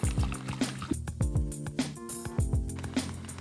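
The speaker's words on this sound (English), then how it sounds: "Just whisk away so you get one of the smoothest and creamiest of" A whisk works through coconut milk custard in a pot, giving rhythmic scraping and sloshing strokes that repeat in quick pairs, close and clear.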